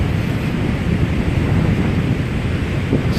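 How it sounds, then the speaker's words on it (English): Large waves from Hurricane Irma break and wash onto Clearwater Beach the day after the storm, a dense continuous surf roar mixed with gusting wind on the microphone and no speech. "These are huge waves for us."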